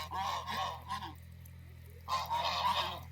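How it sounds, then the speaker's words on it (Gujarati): White ducks honk loudly and close by in two bursts of harsh, rapid calls separated by a brief quiet gap. "આજે તો બતક જોવા પણ આવી ગયા હતા."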